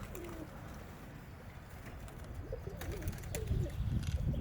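Pigeons coo softly and repeatedly against a steady outdoor background rumble, the calls growing a bit more frequent toward the end.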